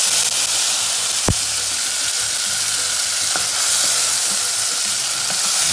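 Tomatoes sizzle loudly in a pan over a sofrito base for Puerto Rican cooking, a steady broadband frying hiss with a sharp clink near the start and a few lighter knocks from stirring.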